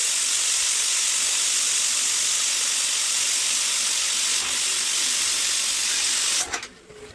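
Loud, steady steam hiss from a pressure cooker whistle while upma cooks in a home kitchen, a continuous close rush that cuts off abruptly near the end.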